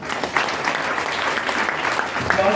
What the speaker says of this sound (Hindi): एक बार इनके लिए ताली बजाओ।